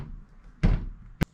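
A vertical door swings shut with a heavy thud, followed moments later by a sharp, bright knock as it strikes its frame, two distinct impacts against a quiet background.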